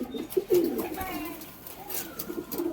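Green-eyed flying pigeons coo softly nearby in low, rolling calls, repeated a few times against a faint background.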